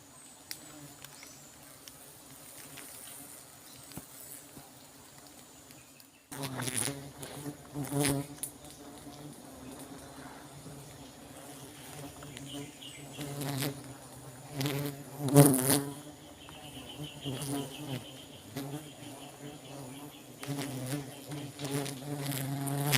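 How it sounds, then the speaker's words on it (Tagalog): Flies buzz around a wild honeybee hive as it is harvested outdoors, a steady close insect drone that grows louder after a quiet start, with small knocks and rustles mixed in. "Grabe mga langaw."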